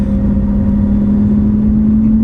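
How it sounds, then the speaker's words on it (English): A modified Lamborghini Aventador V12 idles with its exhaust valves open, a steady, throaty drone, loud and close, holding an even pitch throughout. "the valves on the exhaust system open"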